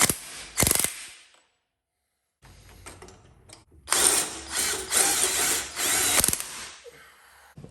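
Wrench working the top nuts on a Harley Springer front end of a 1995 Harley-Davidson FXSTB Softail Bad Boy, with repeated close ratcheting clicks in bursts, a short pause, then several longer loud ratcheting runs.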